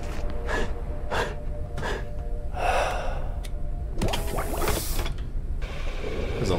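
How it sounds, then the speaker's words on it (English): A moth creature in the game Forever Skies gasps in repeated wet, breathy heaves as it is hauled up, mixed with mechanical ratcheting and gear noises, fairly loud and steady with no talk. "That moth sounds disgusting when you haul it up."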